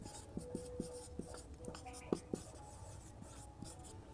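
Chalk or marker tapping and scratching on a board while a chemical name is written, a string of quick, faint ticks over a low room hum, with a voice speaking at times.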